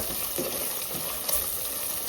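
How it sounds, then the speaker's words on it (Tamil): Steady, close sizzling and frying of onions in a hot pan, a continuous crackle with occasional stirring sounds and no talking. "இந்த பச்சை வாசனை போகிற வரைக்கும் இதை நல்லா வதக்குங்க"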